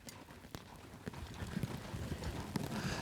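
Hooves of a horse loping in an arena, a faint, distant rhythmic thudding of footfalls under low background noise.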